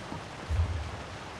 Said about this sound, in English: Oh, it's not raining, that's the waterfall.